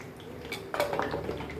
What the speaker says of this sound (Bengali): আস্তে আস্তে নাড়াচাড়া করতে লাগবে।